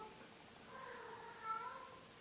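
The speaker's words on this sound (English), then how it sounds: "Sorry about the cats in the background." A cat meows faintly in the background, a thin drawn-out mew rising and falling over a low room hum, distant and quiet.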